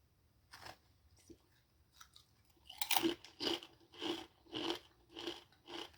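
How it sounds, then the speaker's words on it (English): Close, rhythmic crunching of kettle-style potato chips being bitten and chewed, quiet at first and then a steady series of loud crisp bites. "I like the crunch of a good kettle style chip"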